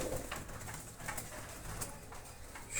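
Soft cooing of racing pigeons, faint and somewhat distant, repeating in gentle low calls over a quiet background.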